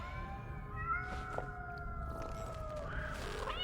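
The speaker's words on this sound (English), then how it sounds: "was that an actual cat?" Cat in the game Nine Sols lets out a drawn-out, wavering meow followed by a shorter rising call, fairly clear over a low background hum.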